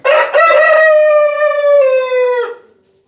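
A rooster crows once, loud and close, a single drawn-out cock-a-doodle-doo lasting a few seconds before trailing off.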